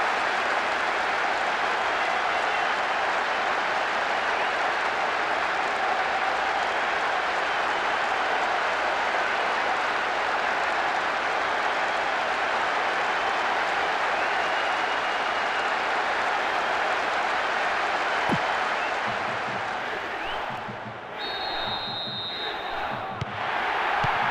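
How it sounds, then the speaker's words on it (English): Stadium crowd in the PES 2026 football video game roaring after a late winning goal, a loud sustained wall of cheering and applause that holds steady before thinning slightly near the end. "The crowd is going ballistic as he scores what surely must be the winner."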